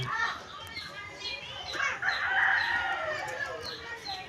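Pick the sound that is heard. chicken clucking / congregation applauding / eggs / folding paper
chicken clucking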